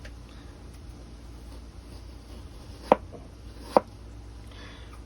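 A Cold Steel Master Hunter San Mai III knife cutting thin apple slices outdoors: two sharp, crisp chops about a second apart over a faint steady background hum, no talking.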